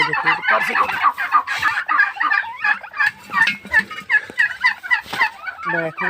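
Turkeys gobble repeatedly in rapid, rattling bursts close by, several birds overlapping, with occasional clucks from other fowl around them.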